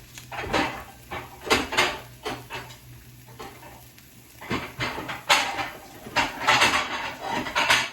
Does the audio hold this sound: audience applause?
no